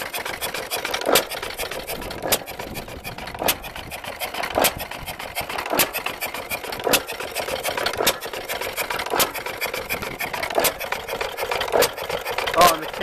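A 1912 1 hp Famous hit-and-miss engine running up close, firing in sharp, evenly spaced pops about once every second or so, with a ticking mechanical patter between beats.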